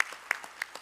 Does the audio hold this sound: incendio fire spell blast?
no